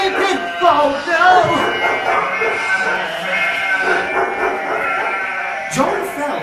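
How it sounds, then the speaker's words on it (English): Sheep bleat repeatedly, loud and close, several animals overlapping in wavering cries, with voices talking underneath. "Oh no, the sheep are escaping."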